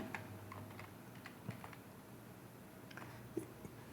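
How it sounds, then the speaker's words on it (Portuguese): Computer keyboard typing a Python command, a quick irregular patter of soft key clicks close by over low background hum, with no voice. "eu vou digitar esse mesmo comando aqui"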